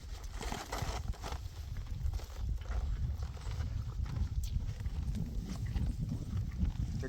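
Donkey hooves walking on a cabbage farm in Jamaica, a steady run of soft clip-clop steps heard up close over low rumbling outdoor noise throughout.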